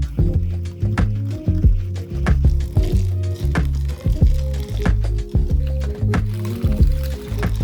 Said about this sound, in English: Just very carefully start adding that hot milk to your eggs.